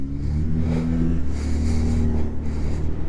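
A motorbike engine hums and revs steadily during a ride to Nandi Hills, with a close, continuous low drone and wind rush, with no talk.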